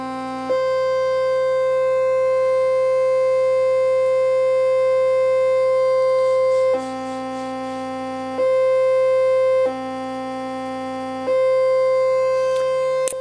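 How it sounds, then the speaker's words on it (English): A Frequency Central 700 State Mk 2 eurorack filter kit self-resonating at full resonance produces a loud, pure sustained tone that steps between pitches several times, with no talking. "So we turn the resonance all the way to self-resonating."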